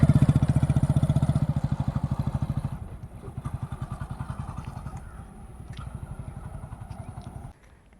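A motorcycle engine idles and putters close by in a steady rapid chug, dropping in level midway and cutting off near the end.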